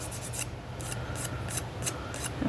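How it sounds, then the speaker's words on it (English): Fingers rubbing a dried glue string off paper on a junk journal slider, giving soft, close, repeated scratchy strokes in an even rhythm, quiet and alone. "But I did get one of my little glue stringies, so I'm taking the time to rub that off."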